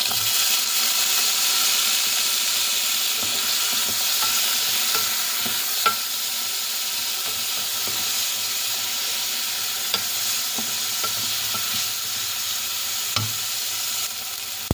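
Tomatoes fry in a pan under a steady, loud hiss of sizzling, while a utensil stirs them with scattered scrapes and light clinks close by. No voices are heard.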